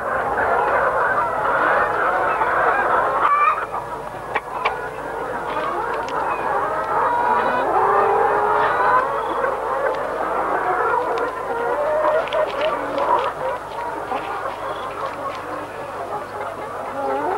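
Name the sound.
chickens clucking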